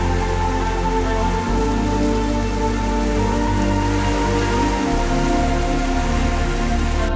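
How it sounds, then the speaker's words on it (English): Heavy rain pours steadily on a hard surface during a cyclone, a dense, unbroken hiss with a low rumble underneath and no voices. "Rain and strong wind continued for most of Monday as the cyclone veered off out to sea."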